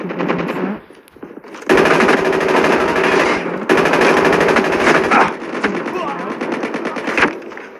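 Rapid automatic gunfire from a first-person shooter video game rattles in long, loud bursts with short pauses, while a player's voice talks over it.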